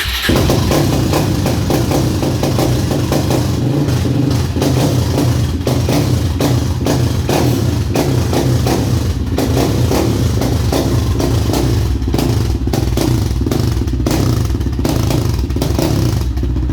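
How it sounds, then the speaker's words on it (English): A Suzuki LTR 450 ATV on its stock exhaust with the baffle removed runs right after a cold start, loud and near, with a sharp, rapidly pulsing single-cylinder idle and occasional blips, with no one speaking. "Today we're doing a cold start on a LTR 450 Suzuki"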